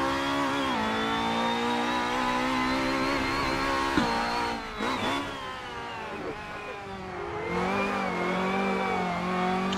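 A Honda Accord MK5 BTTC touring race car lapping a track, its engine a loud, steady high-revving drone with pitch climbing through gears and brief dips at shifts and braking, up close with no talk.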